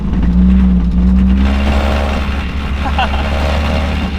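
A BMW drift car's engine rumbles loudly with a low exhaust drone that swells slightly as it revs, close by and steady throughout.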